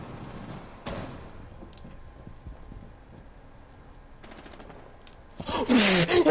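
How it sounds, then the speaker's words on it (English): Gunfire in the video game Rainbow Six Siege: a single sharp shot early on, then a quick automatic burst near the end followed by a loud, harsh blast, over a quiet game background. "You shot me through the reinforced wall!"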